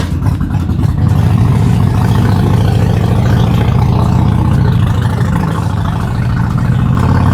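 A loud, deep Harley-Davidson Sportster motorcycle engine rumbles steadily while riding, with a thick, throaty low-end roar and no speech.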